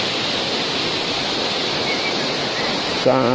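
Roro Kuning waterfall, about ten meters wide, roars as a steady, dense wash of falling water that fills the whole stretch; a voice briefly begins at the very end.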